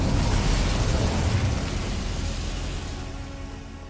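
An Incendio fire spell cast in Hogwarts Legacy gives a loud, roaring burst of flame that rumbles broadly, then slowly fades over a few seconds.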